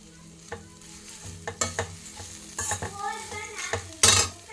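Two spoons of powdered sugar are stirred in a pan over a low flame. Irregular scrapes and metallic clinks of the spoon against the pan sit over a faint sizzle, close by and moderately loud.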